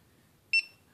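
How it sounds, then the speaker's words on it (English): A single short electronic beep from a GoPro HERO4 Black action camera, high-pitched and clear, sounds once against near silence. "Press the button and you'll hear a series of beeps."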